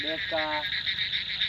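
Frogs during stormy rainy-season weather give two quick, buzzy croaks near the start, then fall quiet beneath a constant high insect-like trill that carries on throughout.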